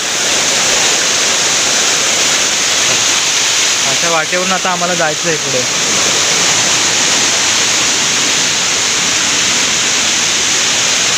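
A Konkan waterfall near Chandranagar, Dapoli, rushes loud and continuous, a steady roar of flowing water that a voice briefly talks over partway through.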